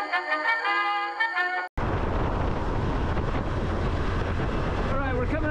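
Honda CT125 Hunter Cub motorcycle cruising in top gear on a UK motorway, heavy buffeting wind roar and engine drone filling the sound after a short stretch of other tones, close and loud.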